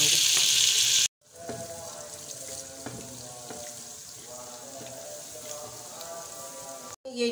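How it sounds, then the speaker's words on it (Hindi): Ginger-garlic masala roasting in a clay handi, a steady close crackling sizzle with scattered pops, preceded by a loud bright hiss that cuts off sharply and ending with another abrupt cut. "ये जो है ना, ये छः से सात मिनट होगा इसको हंडिया को भूनते हुए।"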